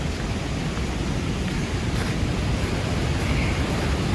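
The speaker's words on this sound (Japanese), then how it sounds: "これ今しか見えない滝だね。" A waterfall fed by spring snowmelt roars as a dense, continuous wash of broadband noise, steady and fairly loud, with no voices over it.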